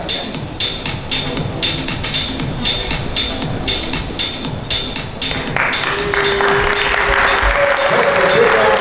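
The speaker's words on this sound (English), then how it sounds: "That's a big round of applause for contestant number 1." An audience at the 2019 Miss Armada pageant claps in a lively, steady patter that continues throughout, joined near the end by cheering and a voice over the crowd.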